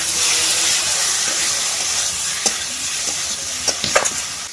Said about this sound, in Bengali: আর একটু আদা বাটা জিরে বাটা দিয়ে ভালোভাবে কষিয়ে নিয়ে জল দিয়ে দেবো